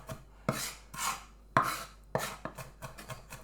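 Knife chopping onions on a cutting board, about ten crisp chops at an irregular, unhurried pace, close and clear with no voices.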